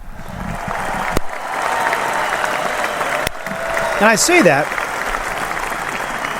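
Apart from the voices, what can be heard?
audience applause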